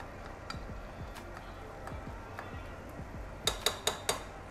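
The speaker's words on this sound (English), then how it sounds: "And we're gonna stir this up really well." A utensil stirs kale in a pot, soft scraping strokes repeating under a quiet kitchen background, ending with four sharp metallic clinks as the spoon taps the pot rim.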